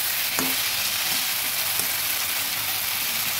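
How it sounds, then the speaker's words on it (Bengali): Katla fish curry with potatoes and drumstick pieces sizzles steadily in a pan while a spoon stirs it, giving a couple of sharp scraping knocks over a continuous close hiss. "আর একটু নেড়ে চেড়ে এবার জল দিয়ে দেবো।"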